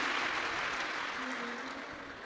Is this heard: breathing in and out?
no